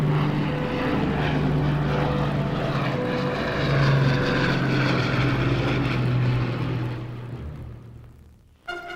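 The Dornier Do X flying boat, powered by twelve Curtiss Conqueror engines, drones steadily with a loud, continuous propeller roar that fades slightly near the end.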